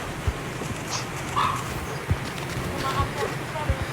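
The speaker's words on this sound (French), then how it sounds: "Oh le chien." A dog in a video game gives a few short, soft barks and whimpers over a quiet, breathy background, with people talking intermittently.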